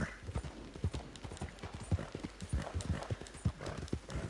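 Horse hooves clip-clop steadily in the video game Red Dead Redemption 2, a brisk, evenly paced trot of loud, close hoofbeats throughout, with a faint whinny hint in the background.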